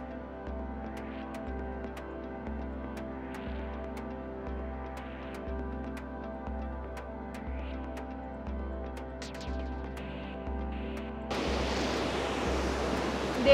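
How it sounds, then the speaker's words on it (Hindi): Rushing water at a waterfall in Maligne Canyon, Jasper National Park, with broadband roar under a steady low rumble, growing much louder and closer near the end. "अब मैं झरने के एकदम पास में आ गई हूँ"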